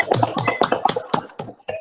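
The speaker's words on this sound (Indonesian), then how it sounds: "tepuk tangan" Schoolchildren in an Indonesian classroom clap their hands in a quick patterned chant, a run of about eight close, sharp group claps with brief gaps, ending abruptly.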